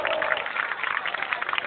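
Audience at an outdoor puppet theatre show in Mogliano Veneto clapping in a dense, steady patter, fairly distant and soft, with no voices over it.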